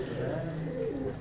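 A single pigeon gives a brief, low rolling coo at close range, over a steady background hum.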